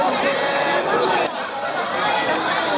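Busy pedestrian crowd on a street in Macau near the Sao Paulo ruins and Senado Square, a steady dense wash of chatter and footsteps from many people nearby, with no single voice standing out.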